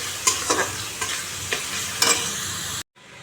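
Spice masala for a Bengali fish curry frying in a pan, a steady sizzle broken by several scraping strokes of a stirring spoon, close and fairly loud, cutting off abruptly near the end.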